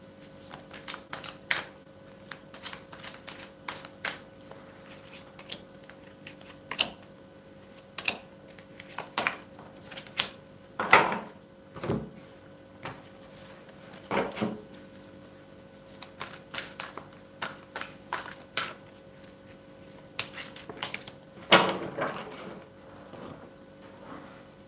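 Tarot cards are shuffled and pulled in a long stretch of soft riffling and scattered taps, with several louder shuffling bursts over a faint steady hum.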